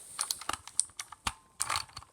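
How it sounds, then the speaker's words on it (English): The space bar keycap comes off a mechanical keyboard in a short burst of sharp plastic clicks and rattles, a few close taps followed by a denser cluster near the end. "You want to take your space bar off."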